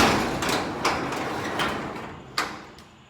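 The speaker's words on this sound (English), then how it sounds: "To open up my dang garage door." A garage door rolls open with a continuous rattling, grinding mechanical rumble, punctuated by a few louder clanks and bumps along its travel, close by and with no voices.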